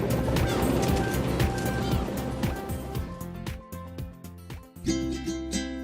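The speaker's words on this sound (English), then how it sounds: "feeding the black-tailed gulls." Black-tailed gulls call and squawk around a cruise boat as they are fed off the Koshiki Islands, their cries layered over engine and wind noise, with clattering bumps near the end.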